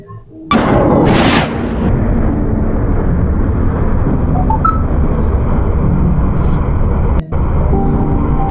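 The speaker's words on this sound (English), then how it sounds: "The United States carried out an airstrike against Islamic State militants in northwest Nigeria" Footage of a US airstrike on Islamic State militants in northwest Nigeria: after a sharp loud onset comes a sustained, dense roar of blast and rumble that fills the recording for several seconds, with a brief dropout near the end.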